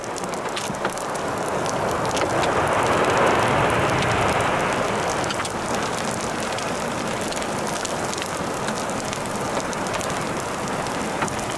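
Steady rain patters in a dense hiss across a surface during a tornado, continuous and fairly soft, with no voices heard.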